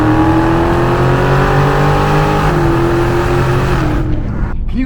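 A Dodge Scat Pack at full throttle, its engine roaring loud and steady as revs climb through the run, with one brief shift-like dip midway before the sound cuts back near the end.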